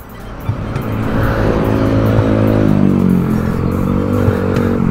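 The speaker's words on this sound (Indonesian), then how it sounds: "Coba kita nyalain lagi. Starter dulu, starter kagak bisa" A motorcycle engine, just started after trouble with the starter, runs loud and close, revving in a steady throaty drone. Its pitch climbs and wavers around the middle before settling, with no voices over it.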